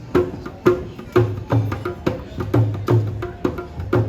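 Hand drums play a lively Indian-style rhythm, mixing deep resonant strokes with sharp slaps in a steady repeating cycle, close and fairly loud.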